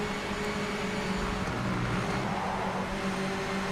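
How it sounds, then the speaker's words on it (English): Racing cars on track in Project Motor Racing, a steady dense engine drone with a continuous hum and no distinct pass-bys, loud and unbroken throughout. "Cars on track sounds good."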